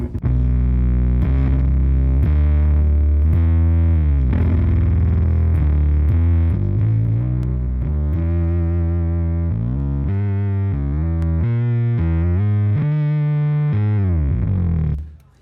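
A deep, subby bass guitar line played through a thick, distorted pedal set to mimic a Moog synth: a run of loud, buzzy low notes that sounds almost synth-like, with no voices.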